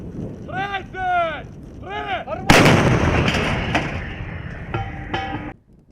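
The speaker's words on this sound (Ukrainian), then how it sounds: "артилерійська батарея гармат Гіацинт приступила до знищення надводного транспорту умовного противника" Someone speaks, then one heavy Hyacinth artillery gun of a howitzer battery fires with a loud, sharp boom that rumbles and echoes for a few seconds before cutting off.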